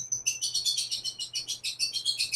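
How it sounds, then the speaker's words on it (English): Pet birds chirp in rapid, regular bursts of bright, high tweets, fairly close and continuous, over a faint low hum. "kind of like my birds in the background"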